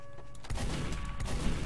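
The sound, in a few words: rocket explosions in the video game Team Fortress 2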